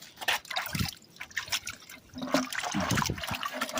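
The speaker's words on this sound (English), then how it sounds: "dump that in there like that. Just kind of slosh them around, I guess." Black sand and gravel sloshed around in water in a gold pan, giving irregular wet swishes and drips that grow busier and steadier in the second half, close by with no talk.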